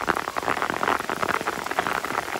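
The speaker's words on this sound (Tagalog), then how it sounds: "malakas na ulan dito sa Mokong, sa Coron" Heavy rain pours down in Coron, Palawan, a dense, steady hiss of drops with scattered louder patters, close and continuous with no voices.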